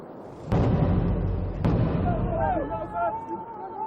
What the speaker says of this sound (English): The miners count the explosions one by one